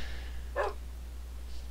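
A single short dog bark from the Minecraft video game, faint over a steady low hum, followed by a soft faint tone.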